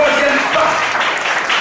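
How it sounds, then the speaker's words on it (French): A church congregation applauds during a Sunday worship and thanksgiving service, producing a short, steady wash of clapping with voices mixed in. "Est-ce que tu peux acclamer?"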